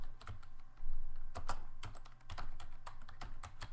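Typing on a computer keyboard, close by, in uneven bursts of sharp clicks with short pauses between them and no talking over it.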